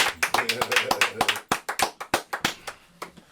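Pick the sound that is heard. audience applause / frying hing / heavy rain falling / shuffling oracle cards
audience applause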